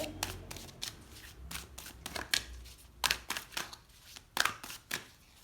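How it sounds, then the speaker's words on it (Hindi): Tarot love cards being shuffled and drawn by hand, a quiet, close series of crisp riffling and slapping bursts in an irregular rhythm. "अब मैं निकालती हूँ कुछ लव कार्ड्स आप लोगों के लिए यहाँ पे"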